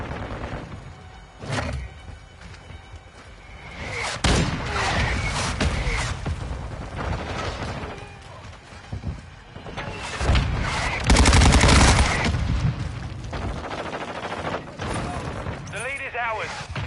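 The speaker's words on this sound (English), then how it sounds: "Friendly mortar strike on the way." Mortar strike explosions and gunfire in Call of Duty multiplayer, a series of loud booming blasts and rattling shots layered with game voice callouts.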